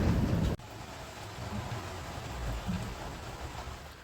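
A loud thunder crack opens, ending abruptly after half a second, followed by steady moderate rain pattering on a boat deck in Göcek.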